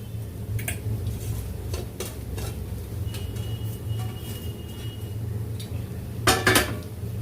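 A lentil and coconut mixture with steamed cluster beans being stirred in a pan for paruppu usili: scattered metallic clinks and scrapes of a spoon on the pan over a low hum, with a quick cluster of knocks near the end.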